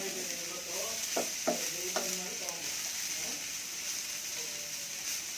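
Ground coconut and garlic powder are stirred into radish curry frying in a pan, with a steady close sizzle and a few sharp scraping strokes of the spoon early on, then continuous frying hiss.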